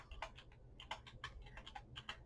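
Quiet keystrokes on a computer keyboard come in a quick, uneven run of light clicks, close but faint over a low background hum.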